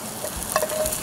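Garlic and ginger frying in a pan, a steady close sizzle with a few sharper crackles and stirring scrapes, no voices.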